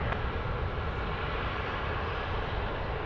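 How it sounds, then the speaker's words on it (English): A Qantas Airbus A330-200 on final approach to runway 16 right at Sydney Airport, inbound from Shanghai, a steady broad engine roar held at even loudness throughout, with no talk. "Qantas 130 calling up there, coming in from Shanghai, 330-200 on finals now, runway 16 right."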